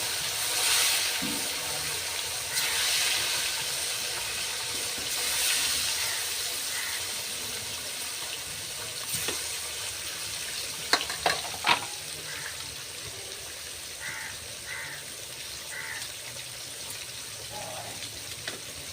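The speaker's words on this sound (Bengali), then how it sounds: "তেলটা গরম হয়ে গেছে, এবার আমি মাছগুলো ভেজে নেব।" Silver carp pieces sizzle in hot oil, a steady close hiss with scattered utensil clinks and taps, and a voice speaks at times over the frying.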